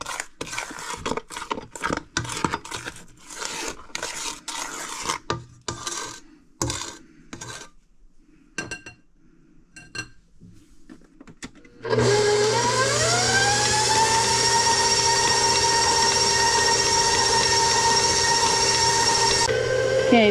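Electric hand mixer beating brown butter pound cake batter in a bowl, starting with scattered clicks and scraping, then a loud steady motor whir that runs continuously for the final half.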